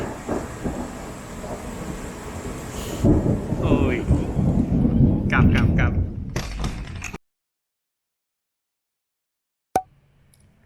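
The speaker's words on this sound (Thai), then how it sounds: "ฝนแบบว่าฝนหนักมาก" Heavy rain pours down with rumbling thunder in Chiang Khan, Loei, Thailand, loud and steady for about seven seconds before cutting to silence, then a sharp thump; a voice briefly exclaims.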